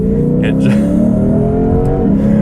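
A 2022 Lexus IS 500 V8 engine rumbles and revs steadily, a throaty low growl holding close and loud for a couple of seconds.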